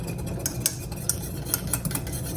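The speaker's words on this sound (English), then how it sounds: "you'll whisk through just because you don't want anything burning on the bottom" Homemade chocolate syrup thickening in a pot as a whisk scrapes and taps against the metal, a quick run of light clinks and swishes over a soft background hum, no talking.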